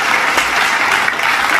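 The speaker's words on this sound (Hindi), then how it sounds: "जोरदार तालियां हम सब की" Loud, steady applause from an audience at the foundation-stone ceremony for a milk powder plant at Hotwar, Ranchi, sustained dense clapping filling the whole stretch.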